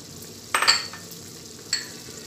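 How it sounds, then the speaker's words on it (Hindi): Garlic-ginger paste hits a hot pan for keema aloo, giving a short burst of sizzling and stirring, then a second quieter sizzle, with no talking. "अब इसमें हम डालेंगे लहसुन अदरक का पेस्ट"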